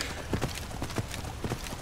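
Horse hooves clip-clop in the video game Skyrim, a quick irregular run of soft hoof thuds at moderate distance over a hissy background.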